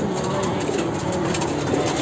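An exotic pigeon at a loft coos up close, soft throaty calls over a steady noisy background.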